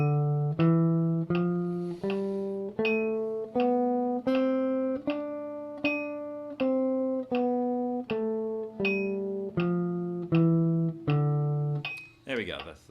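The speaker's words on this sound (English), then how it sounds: "that's the sound of the Dorian mode." D Dorian mode played note by note at 80 beats per minute on a sustained, tuned instrument, about a dozen evenly spaced notes climbing and descending, each decaying before the next, with a brief rattle at the end.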